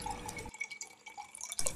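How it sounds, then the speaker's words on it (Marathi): Cold water poured from a clay matka, a faint, close trickle with scattered small drips and splashes, quiet and without voices. "म्हणून या माठातलं पाणी घेत आहे"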